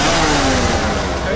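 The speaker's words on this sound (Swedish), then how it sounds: "Det är motorsågen!" A chainsaw revs in a Halloween haunted attraction, a loud, continuous droning engine roar filling the moment, with shouting voices mixed in.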